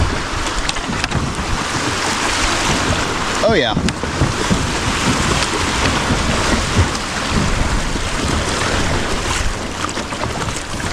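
A kayak on a low Texas river rides steady, rushing water that splashes and churns the whole time. A man's brief exclamations come in over the constant loud wash.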